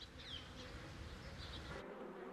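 Honeybees buzzing steadily and fairly loud, with a continuous drone and shifting higher whine as individual bees pass close, heard alone with no voices.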